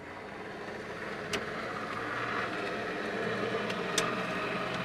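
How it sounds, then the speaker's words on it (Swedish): An electric window on a 1991 Fiat Uno, with water run down into the door slot, runs with a steady whirring motor hum and a couple of faint squeaky clicks, at low level. "då har det runnit ner vatten i den här springan och då får man dras med ett ljud som låter så här"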